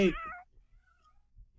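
Cats meow in the video game Shadow of Destiny, a loud harmonic meow at the start followed by quiet low rumbling, then another meow beginning at the end.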